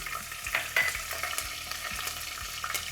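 Bay leaf, whole spices and green chilies fry in hot oil with a steady close sizzle, broken by soft scraping stirs.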